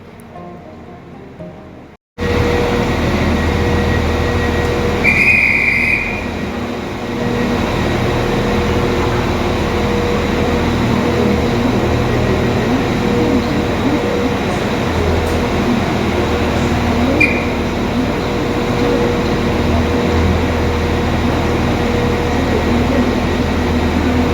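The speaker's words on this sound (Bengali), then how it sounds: "আমাদের তিন নম্বরই ট্রেন গিয়েছে তো এটা যাওয়ার পরে এখানেই আমাদের ট্রেনটাও আসবে" A train at a Liverpool railway station produces a continuous loud rumble and rush on the platform, with two brief tonal beeps partway through.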